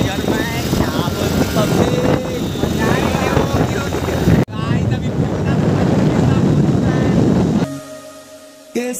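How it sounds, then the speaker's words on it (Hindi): A new scooter pulls away on its first ride, giving a steady broadband rumble with heavy wind buffeting across the microphone. Near the end the sound drops to a quieter, thinner hum, and voices talk over parts of it. "अभी निकलने वाली है अपनी स्कूटी। बाय फर्स्ट राइड अपना बाय।"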